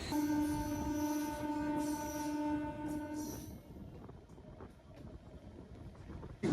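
A MEMU passenger train pulling out of Mustafa Chak station in rural Bengal, steady close rumble of wheels and carriage with a sustained electric horn-like tone for the first few seconds, then continuous rolling noise.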